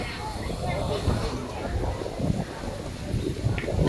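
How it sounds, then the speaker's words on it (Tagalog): Strong typhoon wind gusts with heavy rain roar steadily around Yung Shue Wan on Lamma Island, a constant rumbling wash of noise buffeting the microphone while people talk over it. "Lakas ng hangin talaga,"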